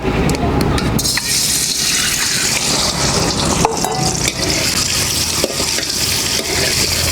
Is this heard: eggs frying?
yes